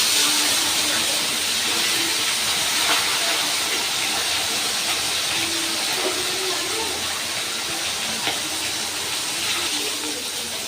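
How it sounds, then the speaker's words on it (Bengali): Rithe fish frying in hot oil in a pan, a loud, steady, close hiss and crackle of sizzling that continues without a break and with no talk. "মাছের এক পিঠ আমার ভাজা হয়ে গেছে। আমি আর এক পিঠ উল্টে দিচ্ছি।"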